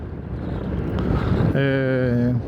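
Strong wind buffets a microphone outdoors during a walk, a loud broadband rush filling the first part, then a steady engine drone takes over near the end.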